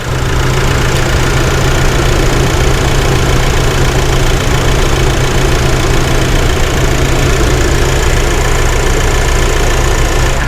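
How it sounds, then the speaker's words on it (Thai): A 2019 Nissan NP300 Navara 2.5 diesel pickup with a manual gearbox idles steadily, a loud, close, constant engine drone with a low hum and faint knocking texture, no voices. "เดี๋ยวให้ฟังเสียงเครื่องดีกว่าเอาจะแน่นแค่ไหน"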